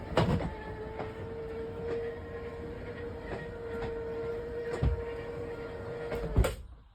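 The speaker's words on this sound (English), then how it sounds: "Now we're going to put the main slide out." A 2021 Jayco RV slide-out motor hums steadily for several seconds with a few soft clunks and rattles, ending in a sharp thump as it stops.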